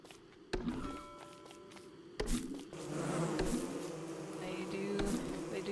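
Killer bees buzz in the game Don't Starve Together, a continuous insect drone with wavering pitch beneath sharp thumps and clicks of in-game action.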